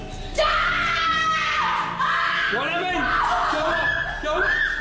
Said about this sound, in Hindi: पागल चिल्ला रही है।